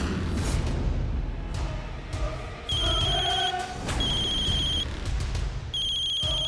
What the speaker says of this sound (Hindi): हमारे उनका फोन आया